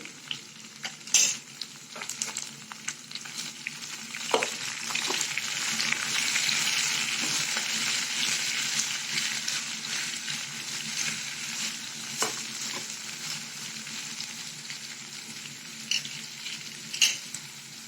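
Brinjal cooking in a pan for an Andhra-style brinjal chutney, with a steady frying sizzle throughout and occasional spoon knocks and scrapes against the pan.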